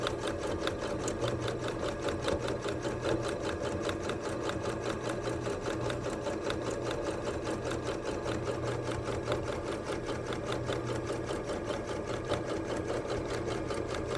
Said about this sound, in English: You're going to go forward a couple, reverse for your back stitch.